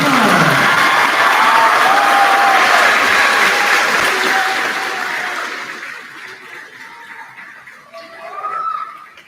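A graduation audience applauds the class of 2025 salutatorian, loud sustained clapping with some cheers that gradually thins out and fades, with a brief swell of voices near the end.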